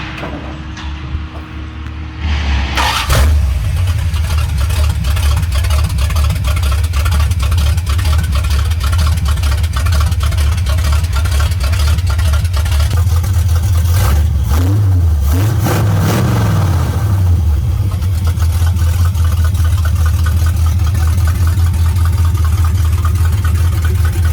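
A 1970 Dodge Charger V8 with a carburetor revs loudly and repeatedly, its engine note climbing and falling close by for most of the stretch, with no talking over it.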